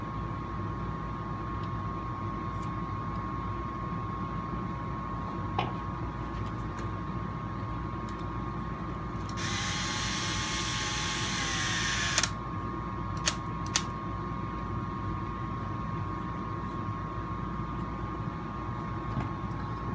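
An SCX10.2 RC crawler skid plate with a 3D-printed spacer is snugged down: a whirring burst of about three seconds midway, then a few sharp clicks, over a steady low room hum.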